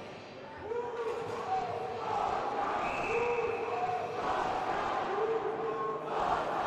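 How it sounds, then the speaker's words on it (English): Student section crowd cheering on the Huskies late in a college hockey game, UW vs WSU, a broad sustained roar with rising whoops and shouts, heard from a distance in the arena. "big student section here cheering on the Huskies in the last 2 minutes"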